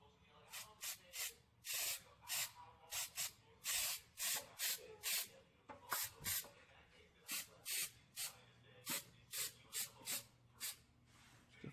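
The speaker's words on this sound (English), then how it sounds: "Now I'm just going to spray some rubberized coating on there to protect it" Rubberized undercoating sprays onto a rust-repaired Toyota AE86, heard as about twenty loud, close hissing bursts in a regular on-off rhythm, each lasting under a second.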